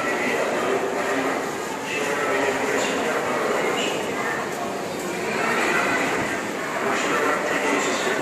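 Sealdah railway station in Kolkata gives a dense, continuous ambience of rumbling trains and crowd noise. Indistinct voices are mixed throughout, and the level swells gently in places.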